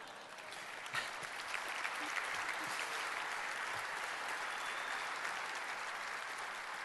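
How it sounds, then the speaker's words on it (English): An audience at an award presentation in Detroit breaks into a sustained round of applause, dense and even from start to finish, with a few sharper claps standing out near the beginning. "I think he deserves a big round of applause."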